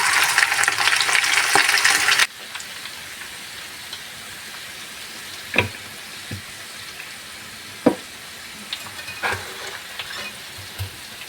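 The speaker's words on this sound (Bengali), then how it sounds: "ধনিয়া পাতা কুচি দিয়ে 1 মিনিটের মতো নেড়ে চেড়ে এখন নামিয়ে নিচ্ছি।" Chicken masala fry with chopped coriander leaves stirred in a hot pan: a loud, close sizzle for the first two seconds, then the frying drops to a soft hiss broken by sharp spatula scrapes and knocks.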